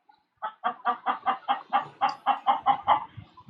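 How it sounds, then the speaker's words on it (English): A flock of farm chickens, part of a large backyard group of about 300 birds, clucks in a steady, rhythmic run of a dozen evenly spaced calls, close and clear with no talking. "You hear my chickens? 300 chickens."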